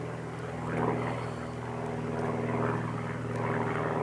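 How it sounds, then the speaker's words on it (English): A propeller airplane drones overhead in the open New Forest countryside, a steady low hum that swells and eases slightly as it passes, heard alone at moderate distance. "There's that plane from yesterday."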